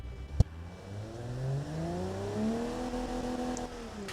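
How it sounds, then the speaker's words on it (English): A car engine built in the game Automation revs up after a sharp click, its whine rising steadily through the gears, loud and sustained with no voices. "you can test the sound of your engine."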